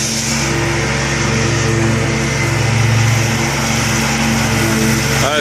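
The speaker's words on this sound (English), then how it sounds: "he cuts grass 6 or 7 feet tall all the time with the mowers the city gives him" A large city-issued mower runs steadily through 7-foot-tall grass in East Dayton, its engine a loud, continuous droning whine with a steady low hum and no pauses.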